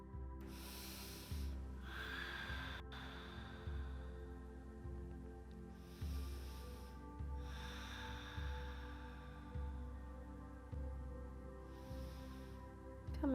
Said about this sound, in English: Again, 3 rounds of Ujjayi. Breathe.